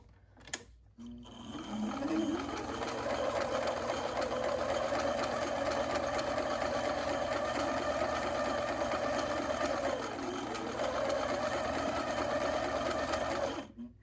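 A sewing machine runs steadily while stitching around the edge of a homemade fabric mask, a close, continuous mechanical whir for about twelve seconds with no talking.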